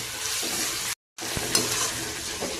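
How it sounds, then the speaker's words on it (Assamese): Red fiddlehead ferns fry with onion in hot oil, a close, steady sizzle that cuts out for a moment and then returns with light stirring scrapes and crackles. "এইখিনি এতিয়া মই অকল তেল আৰু পিঁয়াজত ভাজি আছোঁ।"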